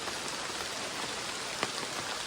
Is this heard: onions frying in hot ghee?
no